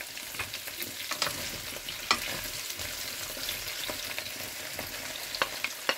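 Sliced bitter gourd (karela) frying in olive oil, a steady close hiss of sizzling oil with scattered pops and light stirring clicks throughout.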